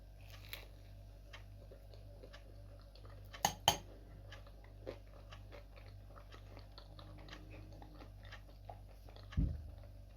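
Someone bites and chews a piece of pie in a quiet room, making faint, sparse crunching and clicking sounds with a couple of sharper bites partway through.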